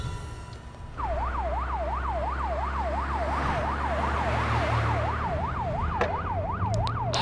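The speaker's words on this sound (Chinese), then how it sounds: "所有车辆关闭警报器" Police and emergency vehicle sirens start abruptly and wail in a fast, regular up-and-down sweep, loud and continuous over a low engine rumble.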